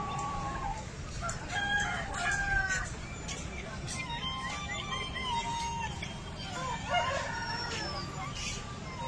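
Many large chickens and roosters, local desi and Bangalore birds, crow and cluck at a busy poultry market. Several overlapping calls sound at moderate distance over a constant crowd murmur.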